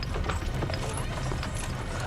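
A horse-drawn wagon caravan heading west in 1846, with steady clip-clop of hooves and a busy, continuous rumble of wheels and movement throughout.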